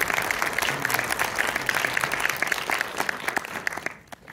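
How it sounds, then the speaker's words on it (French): Steady audience applause at a film premiere screening in a cinema, a sustained wash of many hands clapping at moderate volume that thins out and fades near the end. "on peut applaudir, c'est vrai."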